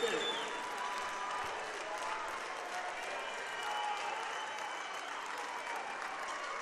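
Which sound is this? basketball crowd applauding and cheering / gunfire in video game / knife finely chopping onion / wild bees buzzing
basketball crowd applauding and cheering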